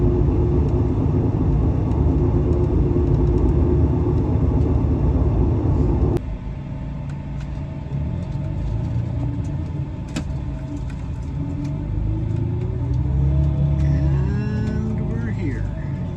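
A bus interior on the ride home to Seattle after a PCT hike, with a steady low engine rumble and road noise throughout, a brief clunk partway, and faint background sounds near the end.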